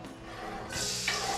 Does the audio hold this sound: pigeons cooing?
no